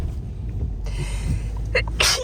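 One person sneezes sharply nearby, a brief loud burst near the end after a quieter intake, with low background noise in a village setting.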